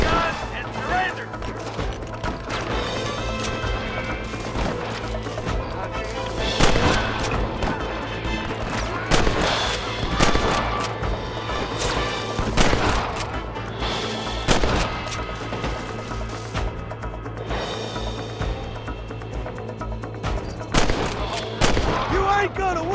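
Rapid gunfire from a shootout in the video game Red Dead Redemption, loud and close with repeated sharp shots and volleys throughout, under bursts of shouted voices.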